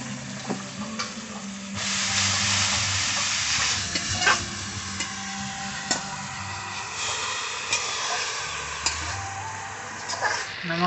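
Greens (saag) frying in a pan in a village-style kitchen, a loud continuous sizzle with occasional stirring scrapes and clatters, heard up close with no talking.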